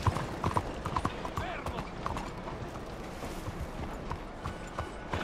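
Rhythmic clip-clop of horse hooves on hard ground in Red Dead Redemption 2, steady and fairly close, with creaks and faint ambient noise around it.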